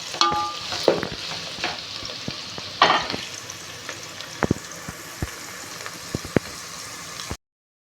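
Sliced onions sizzle steadily in hot oil for chicken dum biryani, a continuous close frying hiss broken by sharp scrapes and clicks of stirring, with no voices, ending in abrupt silence.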